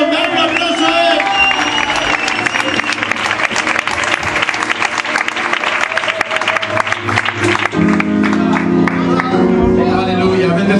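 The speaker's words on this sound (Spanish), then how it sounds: "¡Dar un aplauso a él!" Loud, dense applause from a church congregation, steady throughout, blended with sustained music and voices over the clapping.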